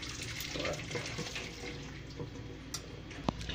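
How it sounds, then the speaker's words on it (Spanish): Cooked spaghetti being drained for carbonara, with water pouring in a steady broadband rush that stays fairly loud and continuous throughout, ending with a brief clatter near the end. "Escurrimos la pasta"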